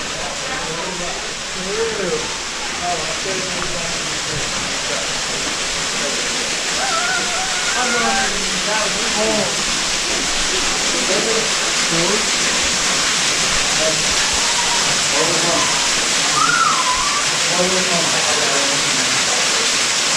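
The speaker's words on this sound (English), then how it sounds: "But the waterfall's right around the corner." Grotto Falls, a waterfall on a forest trail, roars as a steady broadband rush of falling water that stays loud and constant, with a person talking over it.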